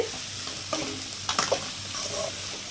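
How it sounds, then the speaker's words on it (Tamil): Onion, green chilli and curry leaves sautéing in oil for an egg stir-fry, a continuous sizzle with a few sharp stirring scrapes bunched near the middle and no talking. "எல்லாத்தையும் சேர்த்து ஒரு எண்ணெயில் ஒரு பரட்டு பரட்டிக்கிடுவோம்"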